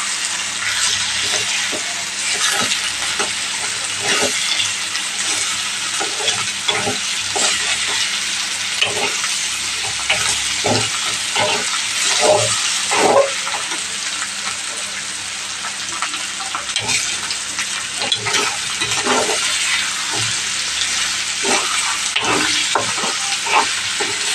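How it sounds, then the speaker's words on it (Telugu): Ivy gourd curry fries with egg in a pan, a continuous loud sizzle broken by frequent clicks and scrapes of stirring throughout. "ఒకసారి ఎగ్గుతో అయితే అలాగా ఫ్రై అవ్వనివ్వాలి."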